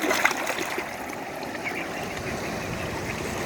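Water rushes over a spillway at a fishing spot as a steady, broadband flow with faint splashy texture. It stays continuous and fairly close, with no voices.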